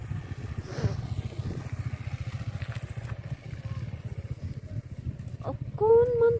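A motorcycle engine chugs steadily and nearby on a road around Shillong, a low, even putter that lasts throughout. A brief tonal sound rises near the end.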